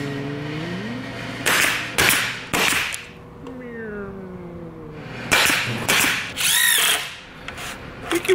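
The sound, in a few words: table saw cutting wood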